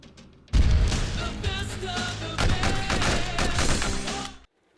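Gunfire from the film Enter the Ninja, in which a right-hand man is shot by his own boss, comes as a dense, booming burst of shots mixed with a movie soundtrack. It starts abruptly and keeps going for about four seconds before cutting off.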